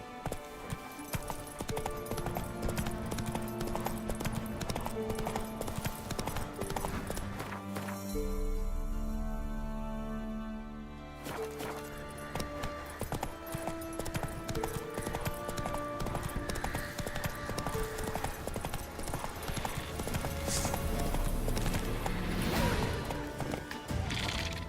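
Roach the horse galloping in The Witcher 3, rapid rhythmic hoofbeats over a game music score, with a brief quieter break midway before the clip-clop resumes at a steady pace.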